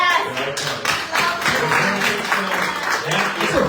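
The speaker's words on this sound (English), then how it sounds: "Let's applaud this man right here." Audience applause for a speaker at a gathering about Maya Angelou: steady, dense clapping from many hands that fills the whole stretch with no voice standing out.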